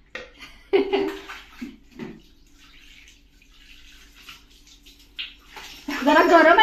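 Water splashes and pours during a young child's bath at home, with intermittent gushes and a louder rush of running water at the end, while adults and someone talk over it.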